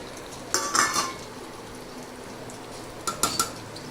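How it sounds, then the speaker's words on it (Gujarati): Utensil scraping and clattering in a pan as grated paneer is added and stirred into the masala for paneer bhurji, two short bursts of metallic clinks separated by a quiet low hum, close with no talk. "હવે આપણે જે છીણીને તૈયાર રાખ્યું છે પનીર એને એડ કરી દઈએ"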